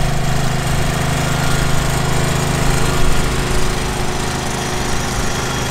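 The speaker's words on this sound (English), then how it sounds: "Here's an International 1206 Turbo Farmall with four-wheel drive power." An International 1206 Turbo Farmall four-wheel-drive tractor rumbles past nearby, its diesel engine a loud, steady, dense drone throughout.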